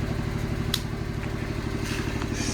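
A Smart 451 Cabrio engine, revived after sitting unused for three years, runs with a steady low rhythmic idle throughout, close up, with a couple of faint clicks over it.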